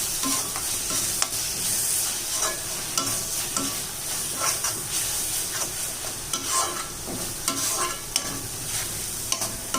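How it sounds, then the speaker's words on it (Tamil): Ground tomatoes sauté in a pan for a prawn fry, giving a steady close sizzle with frequent scraping stirs of a spoon against the pan, continuous and fairly loud with no talk. "இந்த தக்காளியை சேர்த்து நல்லா வதக்கி விடலாம்."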